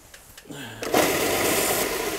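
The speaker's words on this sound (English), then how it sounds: "Sometimes I need to shape them a bit, which I'll do on the sander behind me here." A power sander spins up and runs on a small wooden stick for a fishing lure, a rising motor whine that settles into a steady buzzing grind, close and fairly loud.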